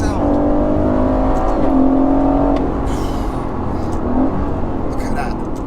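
A twin-turbo 503 bhp V8 Aston Martin Vantage revs hard after a downshift, its engine note rising and falling from inside the cabin, loud and continuous under road noise, with someone talking over it.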